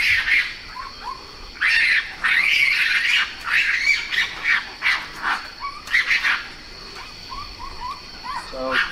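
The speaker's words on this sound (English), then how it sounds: "you'll hear raccoons fighting each other, and it's a rather loud noise" Raccoons fighting: harsh squeals, chitters and snarling screeches come in repeated bursts over several seconds, loud and shrill against a steady insect-like hiss.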